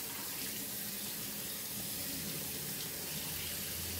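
Cold tap water running into a strainer while raw chicken is rinsed in a kitchen, a steady hissing, splashing flow that stays even and close throughout.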